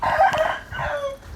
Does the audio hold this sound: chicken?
yes